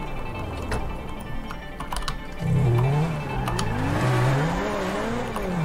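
A car in GTA Online revs and accelerates with a rising, wavering engine tone, loud and close, as keyboard keys click rapidly throughout.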